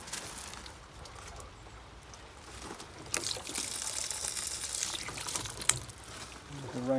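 Water flows out of a hose pipe attached to the bottom of a rain pod water butt beside a shed, a soft steady trickle that grows louder and splashier partway through.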